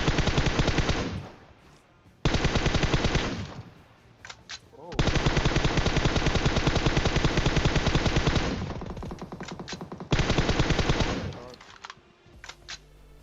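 Rapid automatic gunfire in PUBG Mobile, loud and close, in several long sustained bursts separated by brief pauses, with a few single shots and game sounds between.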